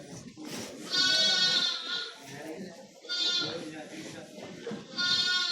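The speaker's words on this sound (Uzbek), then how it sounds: "Yangi tug'ilgan qo'zichoqlar." Sheep and newborn lambs on a farm let out three loud, wavering bleats at roughly even intervals, with a busy background of other animals and a person talking.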